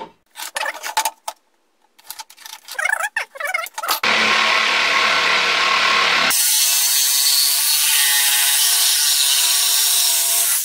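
A power tool cuts wooden boards square for a wall lamp built from salvaged materials. A few seconds of clatter and handling noise lead into a loud, continuous cutting whine whose tone shifts partway through and runs to the end.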